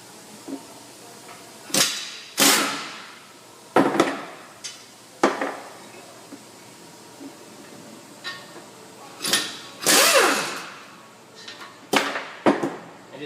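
Bolts on the 19mm caliper support bracket of a 2007-2014 Ford Edge front brake come loose, giving sharp metallic clanks and ratchet-like clicks in irregular bursts spaced a second or two apart, close and fairly loud with no talk.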